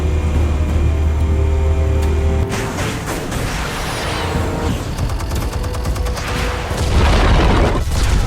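Explosives detonating in Batman - The Telltale Series, a deep rumbling boom followed by crackling debris and a burst of rapid blasts, loud and close.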